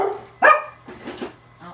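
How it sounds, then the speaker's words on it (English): A dog gives a single sharp bark nearby, followed by a couple of softer whining yips. "don't start barking"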